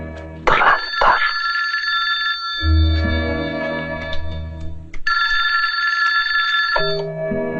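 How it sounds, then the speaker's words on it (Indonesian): A telephone rings loudly in two long electronic bursts separated by a lower-pitched tonal passage, heard clearly with no talking over it. "Ada telepon, Yan?"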